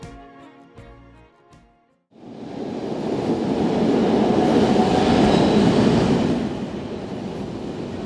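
A Brussels metro train runs through an underground tunnel; after a brief quieter stretch with faint music, a loud, sustained rumbling roar of the moving train swells in and holds steady, easing slightly toward the end.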